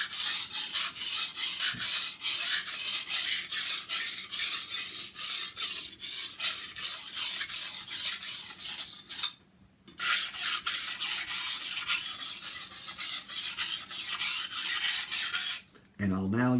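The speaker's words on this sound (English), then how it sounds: "And then I'll go back to the stone again with very light pressure." A kitchen knife is sharpened freehand on a stone with very light pressure, producing quick, rhythmic rasping strokes close up, one brief pause partway through, then more steady strokes.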